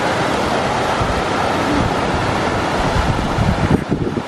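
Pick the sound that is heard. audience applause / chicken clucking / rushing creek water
rushing creek water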